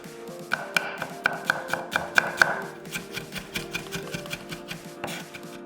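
A knife mincing three whole garlic cloves on a cutting board for a Korean cabbage dish. Quick, evenly spaced chopping taps run in a steady rhythm, close and clear, with no voices.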